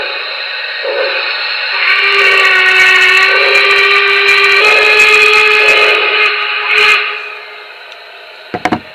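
Y6B steam locomotive whistle on a Paragon 2 model train sound system, one long steady multi-tone blast held for several seconds with slight swells, then a short clatter at the end.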